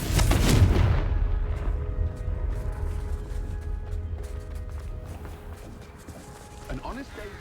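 A Confringo blasting spell explodes in the video game Hogwarts Legacy with a loud, booming burst at the start, then a rumbling decay that fades under background game sounds and faint voices.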